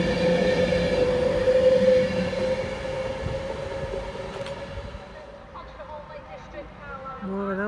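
A train at Wigan North Western station gives a steady, fairly close mechanical hum and rumble with a sustained tone that fades slightly before a brief squeal near the end, while voices are present in the station.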